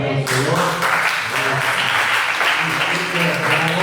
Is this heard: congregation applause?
yes